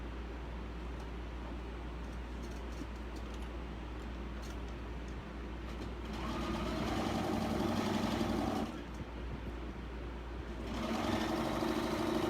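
Sewing machine stitching a geese-in-the-pond quilt block, a quiet motor hum that rises into two bursts of rapid needle clatter, separated by a brief pause, heard close with no speech.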